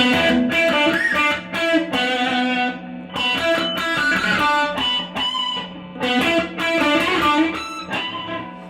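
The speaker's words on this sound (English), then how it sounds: "now you're gonna have to use some pinch harmonics with you use your pick and your thumb at the same time" Electric guitar plays a lick with pinch harmonics: a loud, bright run of picked notes in short phrases with high squealing overtones, alone with no talking.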